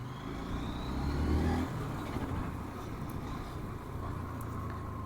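Hero Xtreme 160R 4V motorcycle ridden on the road at night, a steady mid-pitched engine drone with a slight rise in revs near the start, then a constant cruising hum with road and wind rush.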